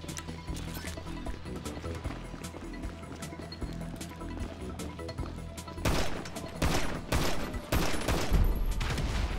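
Heavy pistol fire during a GTA Online deathmatch, with sharp shots cracking out among other game noise, growing louder and more frequent toward the end as several quick, close bangs follow one another.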